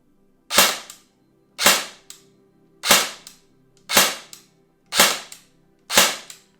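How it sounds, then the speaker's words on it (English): A Delta Armory airsoft electric toy gun fired six times at an even interval of about one second, each shot a sharp crisp snap with a short fading tail, close and clear against silence. "when I click the trigger, there's a long pull, and then it shoots"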